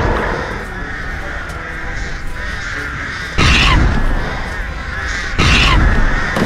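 Crows caw repeatedly in a video game, a steady run of harsh calls with two louder, closer bursts standing out near the middle and end.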